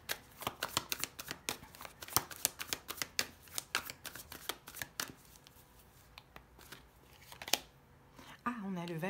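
Tarot cards are shuffled, flipped and laid out in a quick run of crisp snaps and slides during a reading, with a voice talking softly underneath.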